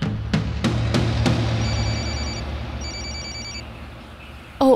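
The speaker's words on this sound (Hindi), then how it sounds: "ओ, ब्रैडली का फोन है।" A telephone rings indoors in two electronic trilling bursts, preceded by a few sharp taps, with no talk over it.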